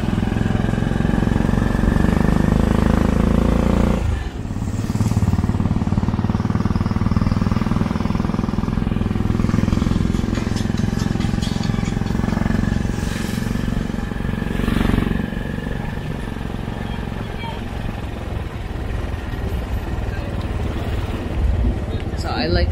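Motorcycle engine droning steadily up close while riding pillion through Cebu City streets, with shifts in pitch as it accelerates and slows amid passing traffic noise.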